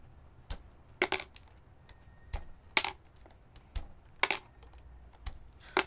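Keycap puller plucking keycaps off an s60 V2 mechanical keyboard, producing sharp, separate plastic clicks and snaps at an irregular pace with short pauses between them, close and fairly quiet.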